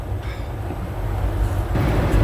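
Steady low rumble and rolling drone of a moving train, heard from inside the carriage on a drizzly day, loud and continuous with a slight swell toward the end.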